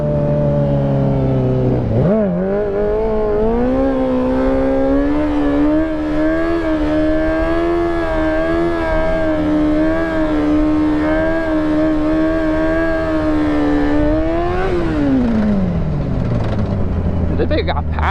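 A Yamaha R6 sport motorcycle revs and pulls away, its high whining engine climbing steadily, holding a loud sustained tone, then dropping sharply as the throttle closes near the end.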